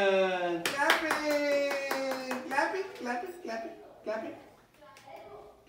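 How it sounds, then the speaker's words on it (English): Hands clap a few times close by, sharp claps scattered among a child's and an adult's talking voices. "Clapping."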